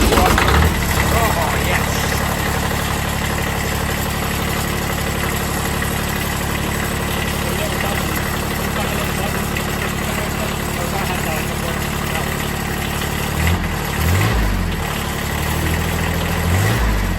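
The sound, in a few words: Ford Crown Victoria engine starting and idling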